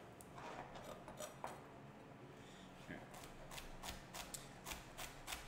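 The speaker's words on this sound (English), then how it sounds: "And we're just chopping down the celery." A knife chops through fresh celery on a cutting board while cooking, giving a quick run of crisp, close chops that cluster in the second half.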